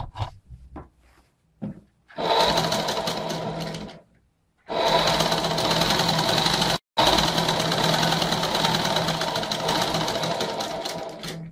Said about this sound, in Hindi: तो ये हमने इसके ऊपर से सिलाई फेर दिया है